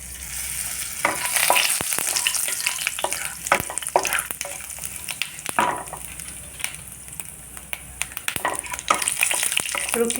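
Whole garam masala and cumin sizzle loudly in hot oil, a dense continuous frying hiss broken by sharp crackles and pops, with occasional stirring clinks in a kitchen.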